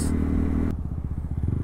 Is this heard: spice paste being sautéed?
no